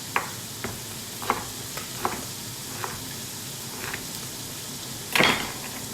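Veal and onion cook in a pan with a continuous sizzle, punctuated by several light utensil clicks and one louder scrape near the end, nobody speaking.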